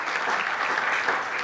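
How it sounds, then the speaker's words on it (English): A crowd claps warmly at a cultural centre launch and photo festival event, a continuous, even roar of applause from many hands. "Let us give a warm round of applause."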